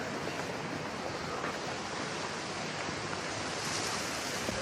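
Sea waves break on the shore in a steady, broad wash of surf, mixed with wind buffeting the microphone and no voices.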